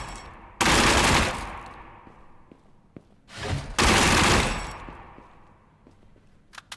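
Two loud, sustained bursts of Tommy gun fire in Gunsmith Simulator, each rattling for about a second, separated by quieter gaps with faint clicks and a brief thump before the second burst.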